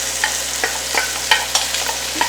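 Onions, green chili, garlic and cilantro fry in a pan for Mexican cheese soup, a loud continuous sizzle broken by several sharp clinks and scrapes of a stirring utensil against the pan.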